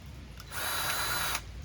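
A Milwaukee cordless grease gun fitted with a Lock n Lube coupler fires one short motorized burst of about a second, a close, steady whirring whine that starts and stops abruptly.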